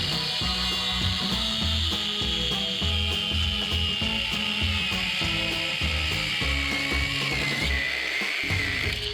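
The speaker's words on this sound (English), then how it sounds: "we'll get the grinder out and start cutting" Angle grinder cutting through a steel shock bracket on a Jeep Cherokee XJ, a continuous loud, close grinding whine with a steady, unbroken drone throughout.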